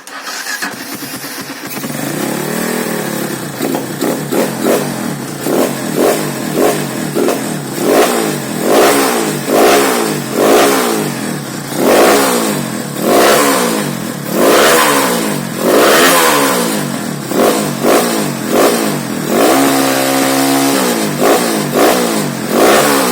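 A Honda GL200 motorcycle engine starts and is revved repeatedly after a CDI swap, loud rising and falling bursts of throttle in a steady rhythm, close up, with no talk.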